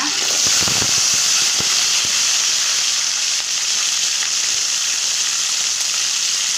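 Curry leaves, dried chillies and shallots sizzling in hot oil, a loud continuous bright hiss with a few sharp pops early on, close up and without speech.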